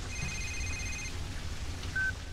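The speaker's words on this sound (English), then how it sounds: "Stop getting phone calls." A phone ringing in the video game Blue Estate: a steady electronic two-tone ring lasting about a second, then a short single beep, close and moderately loud over faint background hum.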